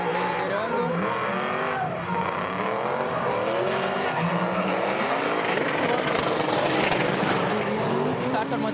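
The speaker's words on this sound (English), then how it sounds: "So it sounds like they're leaving the line now, and here they go." Drift cars launch from the start line at a Super Drift Brasil event at Mega Space in 2019: loud revving engines and squealing tires build and swell under excited event commentary.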